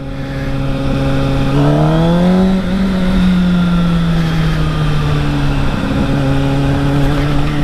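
A motorcycle with a freshly flashed Schnitz Racing ECU and Motion Pro Revolver throttle kit revs loudly and steadily up close, its engine note climbing sharply, then settling into a sustained rumbling drone.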